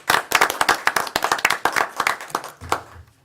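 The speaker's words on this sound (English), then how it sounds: "applause." Hands clap at a county board of commissioners meeting, sounding like a small group in a room. The applause is crisp and fairly close, lasts about three seconds and thins out at the end.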